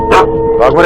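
A dog barks sharply twice, close by, with a voice speaking over the barks.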